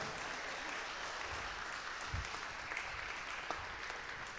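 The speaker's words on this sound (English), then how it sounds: "give them a big applause" Audience at a startup event's final pitches applauds a team, a continuous, even wash of clapping from a sizeable crowd with a few sharper claps standing out.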